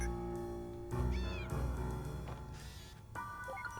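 Cat meowing in the video game Impostor Factory, a few clear meows over a steady musical game soundtrack, fairly close and moderately loud.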